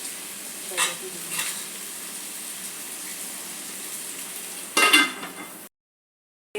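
Spices fry and are stirred in a pan for prawn curry, a continuous close sizzle with a few louder scrapes and bursts before it cuts to silence near the end.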